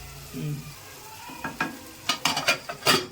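Paneer butter masala ingredients fry and get stirred in a pan, with a steady sizzle and a run of scraping spatula strokes that come closer together and louder toward the end. No one speaks.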